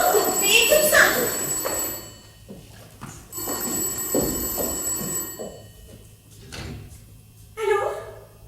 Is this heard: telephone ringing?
yes